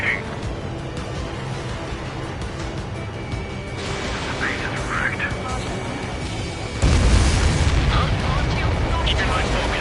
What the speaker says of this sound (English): Missile fire.